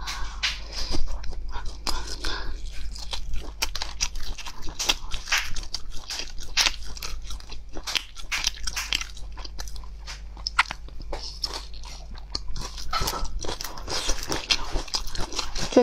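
Close-miked bites and wet chewing of grilled potato slices coated in sauce, a mukbang-style meal: dense, rapid crunchy and squelchy mouth sounds throughout, with faint whispery breaths and no clear talk.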